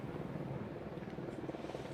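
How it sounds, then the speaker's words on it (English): A news helicopter flies above luxury high-rise twin apartment towers in Santa Ana, its rotor a steady, throbbing drone heard from a distance without pause. "our helicopter is above these twin towers here, these luxury high-rise apartments"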